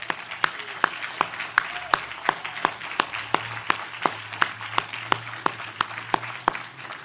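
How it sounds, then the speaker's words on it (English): Audience applauding at the commissioning ceremony of the submarine USS Hyman G. Rickover (SSN 795), with a steady spread of crowd clapping and a few sharp, distinct claps standing out near the front, lasting several seconds. "How about a round of applause?"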